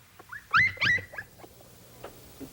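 A wolf cub gives a few high, wavering whimpers and yelps close by, two louder cries then fainter squeaks, with quiet background between.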